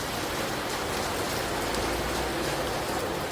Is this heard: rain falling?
yes